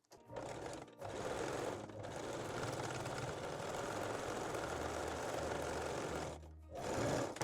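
A sewing machine runs a 3-step zigzag stitch along elastic on a bra's bottom edge, a quiet close-up rapid buzz broken by a few brief pauses.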